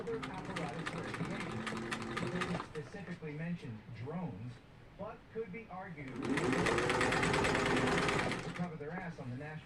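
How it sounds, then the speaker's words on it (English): A sewing machine stitching down Victorian fan quilt blocks runs in two loud whirring bursts, a short one at the start and a longer one near the end, while a person talks in between and over the motor. "now I'm going to turn this one, line it up, and sew it down."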